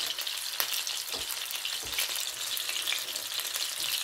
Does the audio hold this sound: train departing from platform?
no